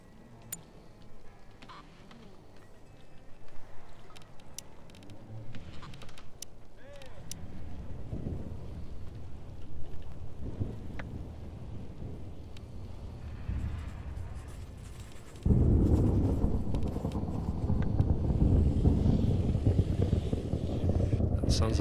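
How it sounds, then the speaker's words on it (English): Rising storm wind with rain in the video game Stranded: Alien Dawn: a low, rushing roar that builds gradually, then surges sharply louder and denser partway through and holds steady. "That sounds like a storm coming in."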